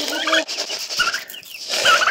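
Poultry in a rural yard cluck and chatter close by, with a few squawky calls over a busy, continuous background.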